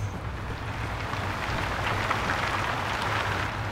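In the first-person shooter Wolfenstein: The New Order, rain falls steadily as a soft, even hiss with a low rumbling game ambience underneath, continuous and without distinct drops.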